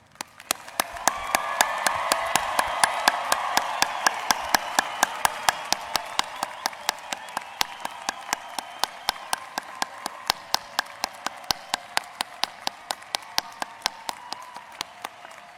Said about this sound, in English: let's show these graduates the loud, enthusiastic round of applause